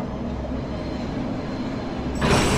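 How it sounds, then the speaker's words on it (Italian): A train in the horror video game Cry of Fear rattles and rumbles continuously, a dense low clatter that swells slightly louder near the end, with no talking. "ma che cazzo di treno hai preso, Simon?"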